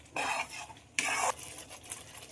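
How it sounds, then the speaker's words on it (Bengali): Hilsa fish lightly frying in a yogurt mixture, with two short bursts of a spoon scraping and stirring in the pan over a faint sizzle. "দিয়ে খুব ভালোভাবে নাড়বো। হালকা করে একটু ভেজে নেবো"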